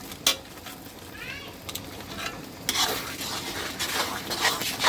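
Packaged biryani masala being stirred into chicken biryani in a cooking pot. A spoon scrapes and clatters against the metal close by, with a soft sizzle underneath, and the stirring grows steadier toward the end. No one speaks.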